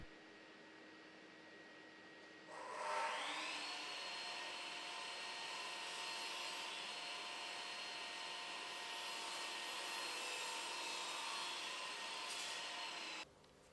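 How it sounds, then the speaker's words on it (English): Chop saw cutting a length of timber skirting board, the motor spinning up with a rising whine and then a steady high buzzing cut lasting about ten seconds before stopping abruptly, heard alone. "When using a chop saw to cut skirting board to length, always try to cut into the face side"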